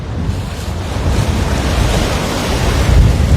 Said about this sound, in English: the wind is why we have such cool waves today, huh?